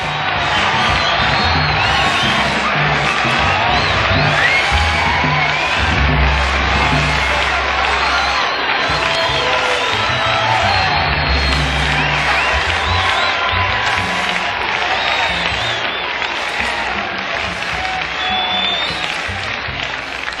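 Large crowd at the Chicago Jazz Festival cheering, clapping and whooping as a performer walks on stage with a band; a dense, loud, continuous roar of applause with scattered shouts throughout.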